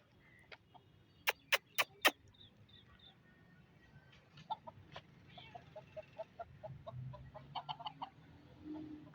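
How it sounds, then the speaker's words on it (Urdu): Roosters cluck repeatedly in an outdoor park as a cat chases them, with sharp scattered calls and clucks, some bunched in quick runs, at moderate distance over a low breezy background. "بلی مرغوں کے پیچھے پڑی ہوئی ہے اور مرغے ڈر سے بھاگ رہے ہیں"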